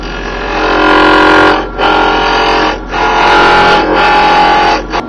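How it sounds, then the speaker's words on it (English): A roughing gouge cuts a spinning wooden blank for a Christmas tree ornament on a lathe: a loud, steady rasping drone over a motor hum, with brief dips as the tool lifts off several times. "So to get it round, I just like to use a roughing gouge."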